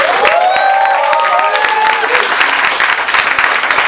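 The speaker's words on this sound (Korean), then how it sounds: "큰 박수를 한 번 더 주시고요." Dense applause from a concert audience at a Daehangno show, a steady wash of clapping with some cheering voices and whistles rising over it, loud and sustained throughout.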